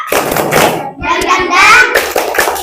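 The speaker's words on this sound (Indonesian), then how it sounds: "Coba tepuk semangat." An audience claps in a quick rhythmic pattern for a spirit cheer, loud close hand claps mixed with voices chanting along.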